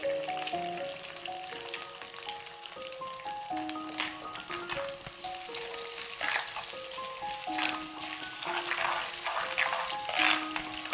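Shallots, garlic and ginger sauté in a pan for Kottayam-style fish curry, a continuous sizzle and frying crackle with occasional stirring, heard under background music.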